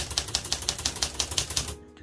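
A Marathon typewriter clacks as keys are struck in an even, quick rhythm, about ten crisp close strikes before the typing stops, with no voices.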